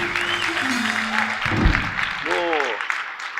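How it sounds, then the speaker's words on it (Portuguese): Applause for a political candidate, broad and steady across the clip, with voices and stray sounds layered over the clapping. "salva de palmas para ele"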